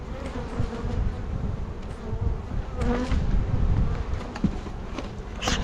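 Honeybees swarming around an open, very large hive in a nuc yard, a close, dense buzzing drone with individual bees whizzing past the mic, rising and falling throughout.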